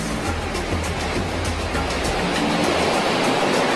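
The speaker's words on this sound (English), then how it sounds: "Instead of just going over a wave, you have to ride it." Ocean surf breaking near a boat riding the swells, a loud, steady wash of broadband roar with no pauses and no voices.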